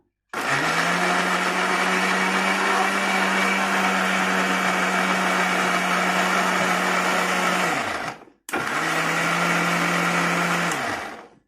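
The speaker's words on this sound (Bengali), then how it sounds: "এখন আমি এখানে ঢাকনা দিয়ে চেপে দিলাম। এখন আমি এটা ব্লেন্ড করলাম।" An electric kitchen blender whirs loudly while blending raw onions and lentils under a closed lid, running steadily for about eight seconds, cutting out briefly, then whirring again for a shorter burst.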